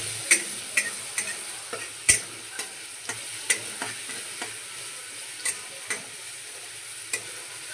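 Ginger garlic paste frying in a pan for pav bhaji under a steady crackling sizzle, while a spoon knocks and scrapes against the pan in irregular ticks for several seconds, close by, with no talking.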